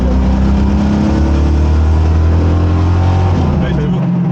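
A Ford Mustang engine revs hard and roars steadily on the Paul Ricard race circuit, a loud, sustained, close-up drone filling the whole stretch with no pause.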